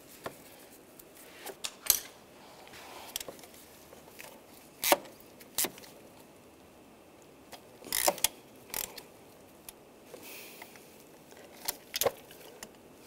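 Small metal clinks and ratchet clicks come in scattered bursts while bolts on the vacuum pump of a 1999–2005 Volkswagen Jetta 1.9 TDI are snugged down, faint and close with quiet pauses between.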